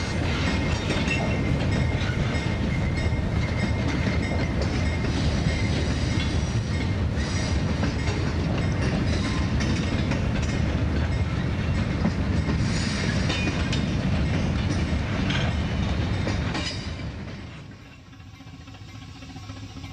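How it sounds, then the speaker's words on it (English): Steam locomotive, a Pacific-type engine, arriving at a museum station in the Trainz railroad simulator, its rolling rumble and clattering wheels loud and steady for most of the stretch before easing off abruptly near the end. "A handful of rail fans have gathered at the Allegheny Museum Station to witness the arrival of the railroad's newest addition."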